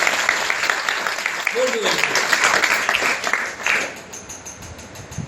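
At a lecture, a crowd's applause rises briefly, a moderate burst of clapping that fades after a few seconds, with a voice talking over and after it.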